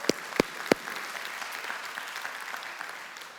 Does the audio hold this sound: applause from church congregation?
yes